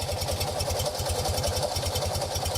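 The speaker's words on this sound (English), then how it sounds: "it has so few cylinders you can hear each individual combustion event" Small-engined Polski Fiat running at idle, a low putter with each individual combustion pulse distinct in a steady, slightly lumpy rhythm, close and continuous with no talking.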